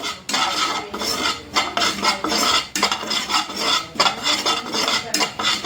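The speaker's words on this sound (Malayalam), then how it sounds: "അതൊന്ന് നല്ല രീതിയിൽ വെൽ മിക്സ് ചെയ്യണം" Intestine curry with pepper powder is stirred and mixed in a pan. A spoon scrapes rapidly and continuously against the metal, close and loud, with no talk over it.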